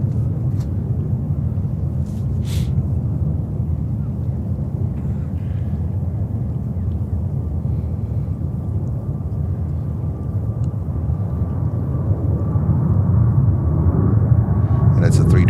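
A JetBlue Airbus A321neo jet takes off at JFK: a steady, deep engine roar rumbles through the whole stretch and swells louder near the end, with faint voices in the background.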